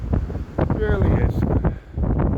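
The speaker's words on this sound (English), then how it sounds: "They're not half crashing, these waves." Heavy waves crash along the windy Blackpool seafront on a cold, rainy day, with steady wind roar buffeting the microphone and surges of surf that stay loud and close throughout, and someone speaking over it.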